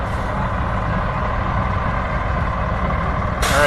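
Colton Volunteer Fire Department's Engine 1204 drives slowly in the Wellston, Ohio Hill Country Festival parade, its heavy engine rumbling steadily and close by, then rising louder at the end.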